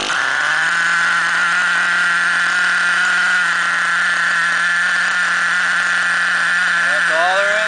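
A truck engine turned over on the starter catches and settles into a loud, steady running drone with a high whine riding on top, continuing throughout.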